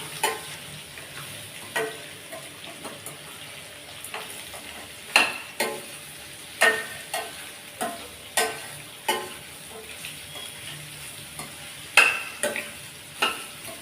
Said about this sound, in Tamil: நான் ரெண்டு நிமிஷம் வந்து இந்த எண்ணெயிலே நல்லா வதக்கி விட்டேன்